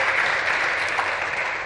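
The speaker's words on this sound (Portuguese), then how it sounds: "por favor, otro aplauso" A theater audience applauds steadily at a film event, dense continuous clapping filling the room without pause.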